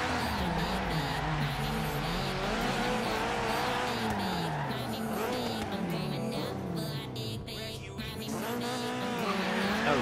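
A cream Nissan 240 street drifting in Forza Horizon 3, the engine wailing in rising and falling sweeps as the tires squeal through continuous slides, sustained and close.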